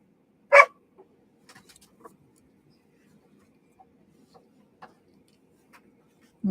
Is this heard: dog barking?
yes